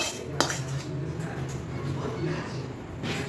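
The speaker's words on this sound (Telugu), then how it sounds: "ఈ గోవా మిక్సర్ని మనం దానిలో కలుపుకుందాం శుభ్రంగా కలుపుకుందాం" A spoon stirs khova into a rice mixture for homemade rice peda, giving steady close scraping and light clinks against the pot throughout.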